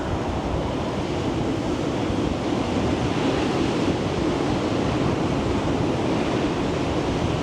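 Steady outdoor wind gusting across the microphone on a Malibu hillside, a continuous broadband roar with no breaks, fairly loud and up close.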